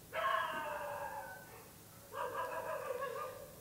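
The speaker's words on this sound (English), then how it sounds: "I don't know if the mics picked this up, but the dogs are agreeing with you." Dogs outside in Mumbai bark and howl in two drawn-out, wavering bursts, loud and fairly close, with a short quieter gap between them and no talking.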